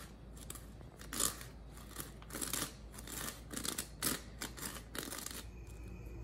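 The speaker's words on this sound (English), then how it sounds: "Now we're gonna sift this flour, salt, and baking soda into this bowl." Flour, salt and baking soda being sifted into a bowl, with close, uneven bursts of gritty, crackly rasping from the sifter in quick repeated strokes, and no talk.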